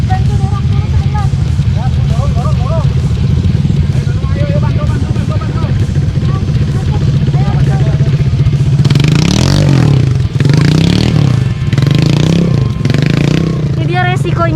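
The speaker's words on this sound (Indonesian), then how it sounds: "Ada motor yang nyangkut, jadi kita harus bantu dorong dulu sebentar." A motorcycle stuck on a muddy dirt road revs hard in a steady low drone while being pushed, with clattering, scraping effort and people talking over it.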